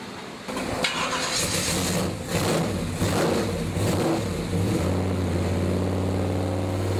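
A car engine fitted with HEI ignition cranks briefly, catches and revs up with a couple of throttle swells, then settles into a steady idle, loud and close, with no talk.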